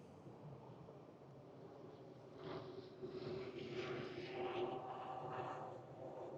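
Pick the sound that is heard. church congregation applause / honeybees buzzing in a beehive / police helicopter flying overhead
police helicopter flying overhead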